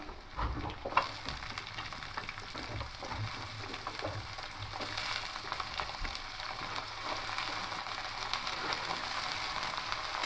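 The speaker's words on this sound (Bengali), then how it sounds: "এবার আলুর টুকরোগুলো একটু হালকা করে ভেজে নেবো" Steady sizzling and crackling of potato pieces frying in hot oil, continuous and close, with occasional stirring scrapes and no talking.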